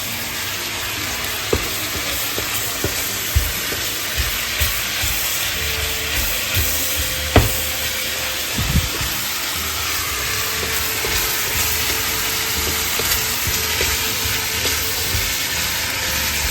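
Beef frying in a pan as it is stirred, a steady sizzle and hiss with occasional soft knocks and scrapes from the utensil, close by with no talk.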